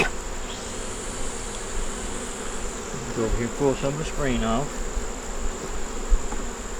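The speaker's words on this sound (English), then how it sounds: "Y'all can see all these bees behind me come in when I move." Honey bees buzz steadily around an opened hive while someone talks over the continuous droning swarm close to the microphone.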